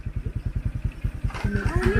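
A motorcycle engine idles close by with a steady, rapid chugging pulse. Near the end a brief rise and some background voices join in.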